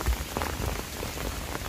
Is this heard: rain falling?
yes